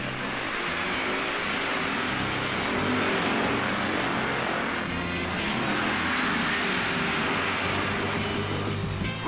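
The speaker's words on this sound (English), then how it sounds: "Sweden's Ove Fundin overtaking Barry Briggs of Britain" Speedway motorcycles racing in a heat at Wembley in 1968, a continuous loud, rough engine roar that holds steady throughout with a slight rise and fall, a distant crowd-like wash mixed in.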